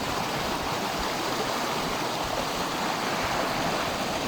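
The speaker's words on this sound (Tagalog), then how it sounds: "hanggang dito lang yung nahanap namin na place ng falls" A waterfall and stream at Tinakayanan Falls in Pangasinan roar steadily and loudly up close, a dense unbroken rush of water with no pauses.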